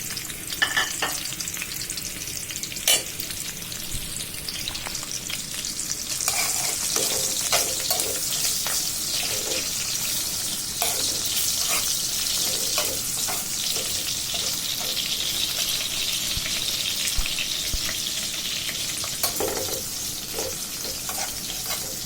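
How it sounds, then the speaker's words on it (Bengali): Fish, onion and garlic fry in hot oil in a wok, giving a steady, close sizzle with occasional stirring clatters and scrapes, and no one talking. "মাছ পেঁয়াজ রসুন ভাজা শেষ"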